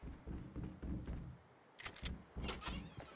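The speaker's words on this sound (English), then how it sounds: "And the front door's opened." A front door opening in the Fortnite video game, a mechanical swing with bright clattering accents, following several low thudding footsteps nearby.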